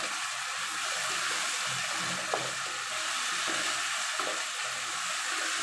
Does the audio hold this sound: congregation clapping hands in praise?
no